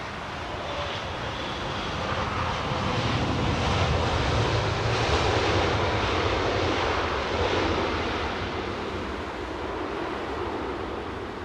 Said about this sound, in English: Let's just get this Dreamliner quick.